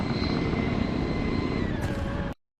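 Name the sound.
helicopter flying in video game ArmA 3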